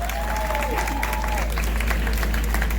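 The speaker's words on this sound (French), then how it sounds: "c'est sur vos applaudissements, c'est Madame Samantha" An audience at a philosophers' festival applauds to welcome Madame Samantha to the stage; steady, moderately loud clapping runs throughout over a low electrical hum, with a brief whistling tone near the start.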